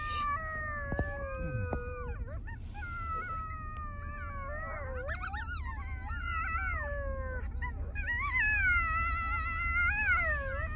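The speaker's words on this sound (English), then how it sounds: "Where? I hear howling." Several coyotes howl and yip together in rising, wavering cries over a steady low rumble, the chorus swelling louder toward the end.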